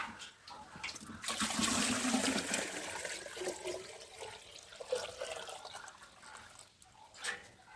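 Water pours and splashes steadily into a fish bowl being refilled after cleaning, a continuous close gushing with trickling, no talk.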